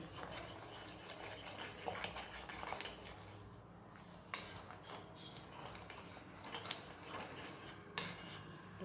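Sugar syrup being stirred in a pan while the sugar dissolves over the gas flame, with steady metallic scraping and clinking of a spoon against the pan, a few sharper knocks standing out.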